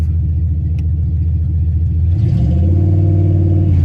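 A drag race car with a broken transmission revs its engine with the gearbox in neutral, a loud close rumbling roar that rises in pitch partway through and holds steady, with no talk.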